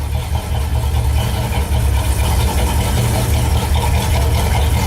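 An old Ford car engine runs loudly and close by, a continuous low rumbling idle with a slight uneven pulse and no break.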